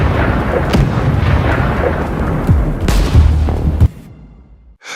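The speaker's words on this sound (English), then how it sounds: "Russian troops bring in their artillery support. Explosions erupt close by." Heavy artillery booms and blasts rumble close by in a rapid series of loud, thudding impacts, ending with one sharp crack before cutting off.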